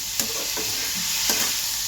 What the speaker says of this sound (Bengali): আমি এতে নুন হলুদ মাখিয়ে ভাজা বসিয়েছি